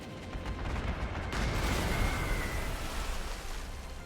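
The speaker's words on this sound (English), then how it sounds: "Fly in there, same thing, AA fire, take some damage." Anti-aircraft fire strikes an aircraft in the Panzer Corps 2 war strategy game, a dense, sustained roar of flak bursts and rumbling explosions that swells after the first second and carries on loud and unbroken with no talking.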